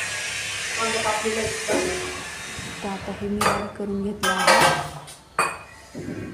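An electric mixer grinder whirs while grinding peanuts and green chillies with salt for onion-greens curry, a loud rough buzz with rattling jar clatter that starts and stops in bursts, as someone talks over it.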